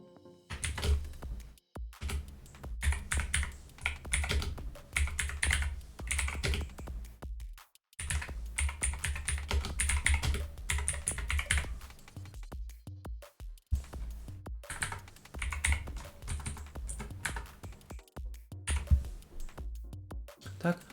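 Computer keys clatter in continuous, close-up bursts of rapid tapping with short pauses, under someone speaking Ukrainian throughout.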